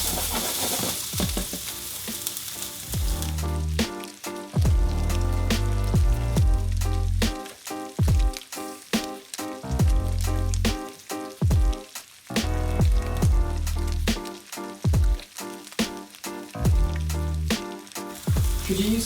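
A vegan burger patty sizzles in a hot pan, a steady loud crackle of frying with rhythmic scraping and stirring pauses throughout, no talking.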